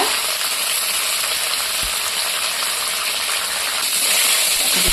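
Garlic and cumin hitting hot oil for a chili thecha, a loud, dense, steady sizzle that holds evenly for several seconds with a couple of soft knocks and no voices.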